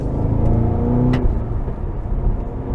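A 2023 Cadillac CT5-V Blackwing on a night drive blips its engine for a rev-matched downshift, a loud close roar that swells and drops sharply before settling back into steady cruising drone.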